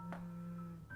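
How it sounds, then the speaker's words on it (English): Inside the video game The Letter, a mobile phone rings muffled as if behind a door, a faint electronic tone that lasts about a second. "Immediately replaced by the muffled sound of a mobile phone ringing."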